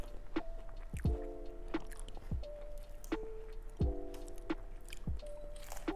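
Close, crunchy chewing with a few distinct crisp bites and sharp clicks at an irregular pace, over a steady low hum.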